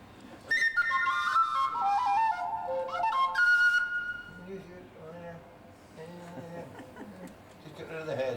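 A person whistles a wavering, sliding tune near the start, loud and close, then it breaks off into softer mouth noises and voice-like sounds.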